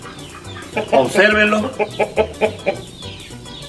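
A giant creole rooster clucks in a run of short, loud bursts close by, several in quick succession, with someone speaking briefly alongside.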